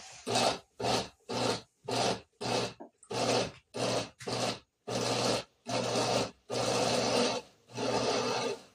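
A kitchen blender on its mix setting blends gazpacho ingredients in a series of short, loud whirring pulses that grow gradually longer, with brief silences between them.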